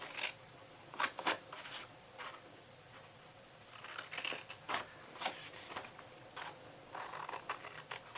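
Scissors snip through paper while cutting out a milkshake-style treat box, giving quiet, crisp cuts in short clusters separated by brief pauses.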